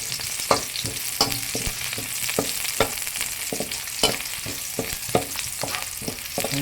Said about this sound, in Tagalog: Siyempre, susunod ko yung sibuyas. Ayan, halu-haluin lang natin siya